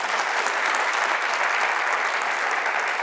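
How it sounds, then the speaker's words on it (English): Loud, dense audience applause at a university graduation ceremony, a continuous even roar of many hands clapping throughout with no pause. "I'm sure they deserve a round of applause"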